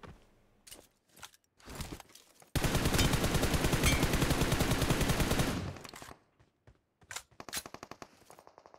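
Sustained automatic fire from an M762 assault rifle in a shooter video game, a dense unbroken burst of about three seconds framed by sparse, scattered single shots and short bursts before and after.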